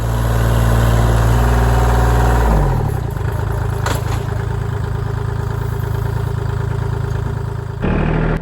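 A Kubota L2501 tractor engine runs steadily and loud at close range while digging hard dirt on a steep incline, its tone dropping slightly partway through under load, with no talk.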